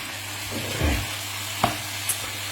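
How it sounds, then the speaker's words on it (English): A wine sauce with half a chicken Oxo cube simmers in a pan, giving a soft continuous bubbling hiss with a few faint taps and stirs close by. "we're going to let that simmer for 2 minutes to reduce down"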